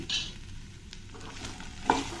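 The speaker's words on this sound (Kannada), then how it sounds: "ಇದನ್ನು ಸ್ವಲ್ಪ ಚೆನ್ನಾಗಿ ಇವಾಗ ಫ್ರೈ ಮಾಡಬೇಕು ಒಗ್ಗರಣೆಯಲ್ಲಿ" Fresh green peas frying in a hot tempering, giving a quiet, brief sizzle with a soft stir and a faint clink near the end.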